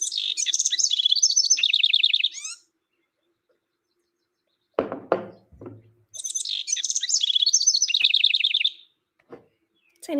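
A northern house wren sings two rapid, bubbling, high-pitched songs with a pause between them, clear and close, and a short low rustle or thump in the gap.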